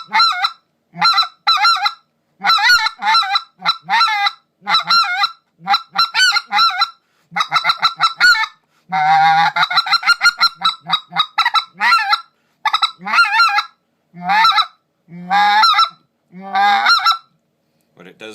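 Basin Calls speck goose call blown hard in rapid bursts of honks and clucks: loud, close, buzzy and guttural, in choppy rhythmic runs with short pauses and a faster rolling sequence midway, no voices.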